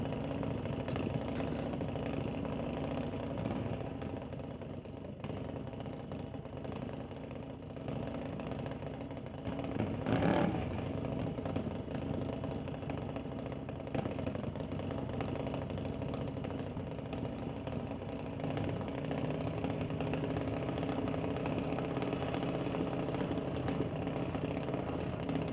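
A junior dragster idles at an NHRA Summit ET drag strip with a faltering engine, giving a steady, rough mid-pitched rumble that holds throughout, with a brief louder surge about midway.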